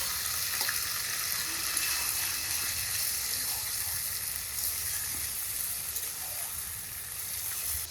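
Marinated country chicken frying in a hot pan of oil, a continuous bright sizzle with light bubbling and occasional stirring, close and steady throughout.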